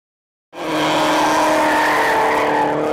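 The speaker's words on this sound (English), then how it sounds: "now they are here calling the next set of runners with a 240SX follower" Drift cars, including a Nissan 240SX, squealing their tires at a Valley Drift Club event, a long loud skidding screech that starts abruptly and holds steady, close, with no talking.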